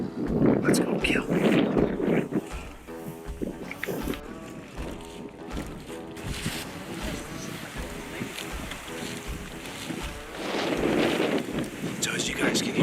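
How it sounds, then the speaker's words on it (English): Gusty wind buffets the microphone outdoors while turkey hunting, heavy low rumbles strongest at the start and end, with a steady roar in between and no clear talk. "So as you guys can hear, it's pretty windy"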